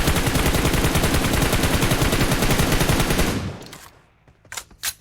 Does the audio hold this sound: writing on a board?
no